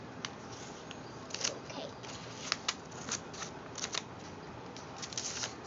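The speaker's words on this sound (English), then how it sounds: "And let's cut it now." Scissors snip through folded paper in quiet, crisp clicks, scattered irregularly and fairly close, with a brief spoken word.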